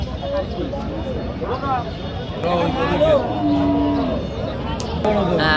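Cows at a busy cattle market in Barobazar low and moo several times, drawn-out calls rising and falling close by, amid a steady hubbub of people talking and general market noise.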